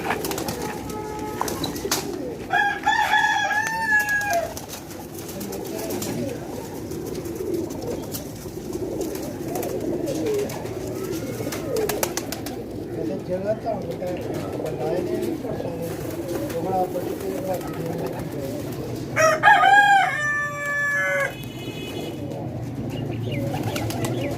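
A flock of roughly forty to forty-five pigeons offered for sale coos and rustles nearby, with a couple of short, brighter calls standing out over someone talking throughout.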